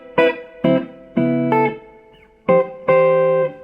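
Electric guitar played through a Laney LC30 amplifier with reverb: a handful of separate strummed chords ring out with sharp attacks, each one decaying with a reverb tail, then two final chords ring out longer.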